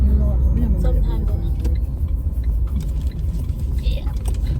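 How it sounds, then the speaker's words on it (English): A car's engine rumbles steadily as it drives and turns around, with a loud, continuous low drone heard from inside the vehicle and people talking over it. "I am gonna turn around the car."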